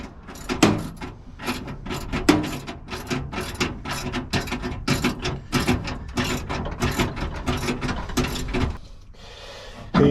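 Rapid ratchet clicking from tightening bolts on a remote steering mount for a Yamaha 9.9HP outboard, a dense run of close, loud clicks in bursts that stop near the end.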